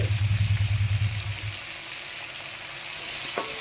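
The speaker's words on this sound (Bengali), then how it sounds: "সব একসাথেই দিয়ে দিলাম, একসাথেই ভেজে নেবো।" Mixed vegetables fry together in a hot pan with a strong, steady sizzle and hiss, while a low rhythmic stirring or burner rumble runs underneath at first and then fades.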